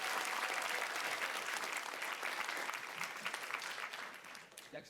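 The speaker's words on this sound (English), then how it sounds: "Round of applause for Germany." An audience at an art panel event gives a sustained round of applause, dense continuous clapping that fills the space and tapers slightly near the end, with faint voices mixed in.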